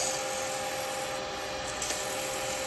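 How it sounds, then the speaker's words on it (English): Sandpaper rubbing a spinning wooden turning on a lathe, shaping beads on a small honey pot: a steady, even hiss of abrasion over the lathe's constant hum, close and unbroken with no talk. "give it a little sand, okay?"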